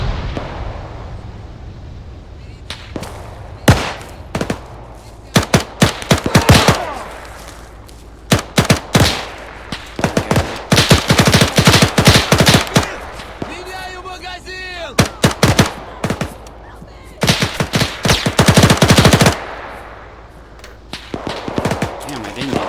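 Bursts of gunfire from a World War II video game, including a drum-fed machine gun, with rapid volleys and single shots ringing out in clusters between quieter gaps, loud and close.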